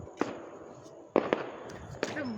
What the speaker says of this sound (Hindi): देखो क्या पटाखे फूट रहे हैं भाई